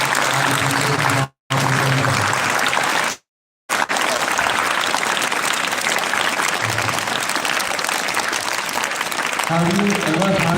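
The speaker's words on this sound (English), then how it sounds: "let's give them once again a big round of applause for all the children and the teachers" Applause from the audience at a school youth parliament assembly, dense and sustained clapping interrupted by two brief silent gaps, with a voice talking over the start and again near the end.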